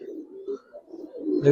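A pair of Huma pigeons coos in soft, close, rolling notes for a moment, alone with no talk.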